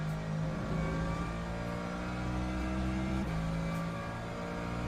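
GT3 race car engine at Spa in the Le Mans Ultimate sim, a steady loud drone with pitch dips and rises as gears shift and the throttle reopens, continuous throughout.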